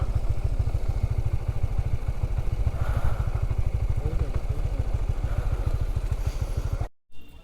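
Motorcycle engine idling and running with a steady rapid pulse close by, on a bike tour arriving at the Sixty Dome Mosque in Bagerhat, before cutting off abruptly as it is parked.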